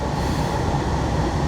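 A late night train rumbles steadily along the track, a loud, continuous low roar with no break and no voices.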